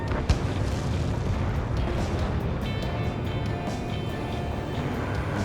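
Missiles explode in aerial combat in the video game Ace Combat 7: Skies Unknown: a sharp burst near the start, then a dense, steady roar of booming rumble that carries loudly throughout.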